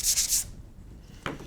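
Drywall joint compound is sanded in three quick scratchy rubbing strokes, close and crisp, followed by a pause and one final brief scrape.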